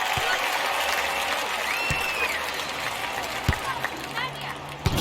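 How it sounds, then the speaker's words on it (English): Stadium crowd cheering and applauding in a London 2012 video game after a point is won, a steady roar of applause with scattered louder claps, no speech over it. "Just listen to the crowd."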